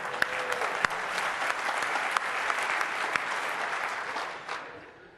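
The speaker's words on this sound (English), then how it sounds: "Show of applause." An audience at a PDC 2008 Microsoft developer conference breaks into steady applause, dense clapping that holds for several seconds before fading out at the end.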